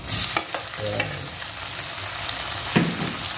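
Tomatoes tipped into a pan of frying ginger and stirred, for kinamatisang pampano: a constant bright sizzle with a few spoon scrapes and a louder clatter near the end, close, no voices.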